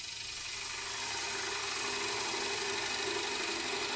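A wood lathe turns a wormy sycamore bowl while its tenon is shaved down to fit chuck jaws, giving a steady, close, continuous motor hum with faint scraping, no voices.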